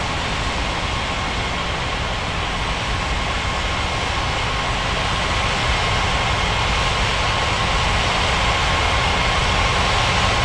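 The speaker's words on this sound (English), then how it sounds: "KLM 5837, cleared for takeoff runway 35." An airliner jet takes off in an air traffic control game set at Paradise Island, a steady, loud broadband engine roar that holds evenly throughout with no talk over it.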